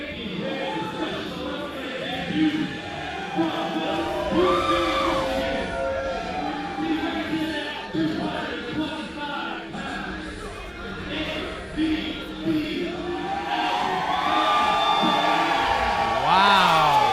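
Wrestling event crowd roars and cheers continuously at moderate distance, swelling toward the end, with a commentator's voice talking over the noise at times.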